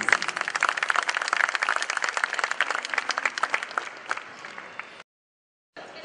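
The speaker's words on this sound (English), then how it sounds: "Can we have a huge round of applause" Dense, sustained applause and crowd clapping at an outdoor arts festival performance, steady for about five seconds before cutting out abruptly.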